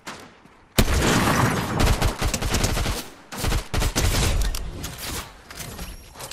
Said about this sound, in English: Ooh, I almost got sniped.